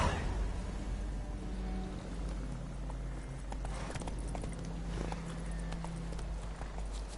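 Horse hooves clip-clop in a steady walking rhythm in a video game, close and clear over a low ambient background hum, with no talk.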